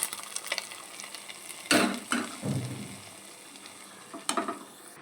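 Coconut pieces fry in ghee for paramannam while a spoon stirs them in the pan. A soft sizzle runs underneath, with several sharper scraping clatters close by and no talking.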